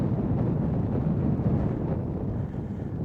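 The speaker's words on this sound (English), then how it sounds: "It's quite windy up here." Strong wind buffets a microphone on a hilltop overlooking a river valley and village near East Stoke, Nottinghamshire, a dense steady low rumble that eases slightly toward the end.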